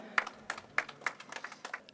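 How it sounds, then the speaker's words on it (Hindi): Audience applause at an opening ceremony of the Khelo India Winter Games 2025 in Ladakh, heard as a brief round of scattered claps with several sharp louder hits over two seconds. "तालियां हो जाए।"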